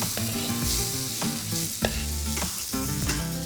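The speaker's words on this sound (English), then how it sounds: "So the first steps of this curry is we're going to just cook out half an onion, just finely diced." Finely diced onion fries gently in a pan for a curry, a close, steady sizzle with occasional stirring scrapes and clicks of a utensil; no voices.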